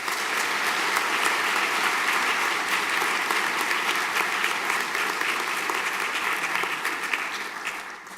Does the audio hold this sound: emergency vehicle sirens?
no